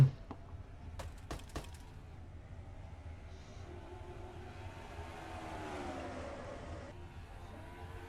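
Trucks racing at Rockingham in a truck-series racing video game, a steady engine drone running throughout with a few sharp clicks near the start and a rising whine swelling mid-clip.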